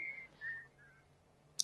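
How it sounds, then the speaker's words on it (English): A woman whistles a short, faint melody of a few gliding notes, sounding alone in a quiet room, followed by a brief sharp click at the end. "She was walking around whistling"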